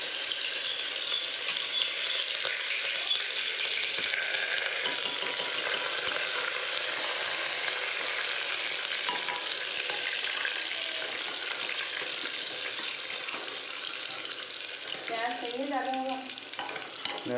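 Garlic frying in a hot pan in a home kitchen, a steady dense sizzle that runs loud and unbroken throughout, with brief stirring and a short burst of talk near the end.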